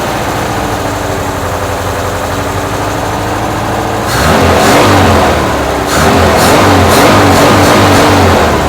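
VW T25 van engine idling roughly with a low rumble, then revving up twice in loud close bursts, bogging slightly as it climbs.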